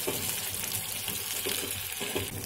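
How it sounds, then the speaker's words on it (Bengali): Steamed potatoes frying in a pan while being stirred, a close, steady sizzle with light scraping, continuous and fairly quiet with no voices. "আলুটা একটু ভাজা ভাজা করে দিব"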